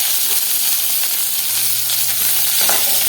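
Seasoning vadagam and curry leaves fry in hot oil with a loud, dense hiss and crackle that holds steady throughout, close up and with no voices.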